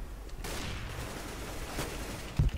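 Gunfire in a shooter video game with hostages, a rapid fusillade of shots in the distance with a sharper, closer bang near the end over a continuous noisy background.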